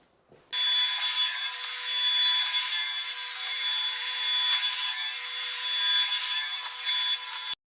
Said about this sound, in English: A few planer laps run.